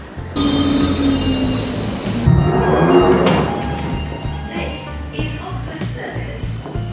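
A London train near Oxford Circus rumbles past with rhythmic wheel clatter and a high, sustained squeal at first, fading into ongoing rolling noise.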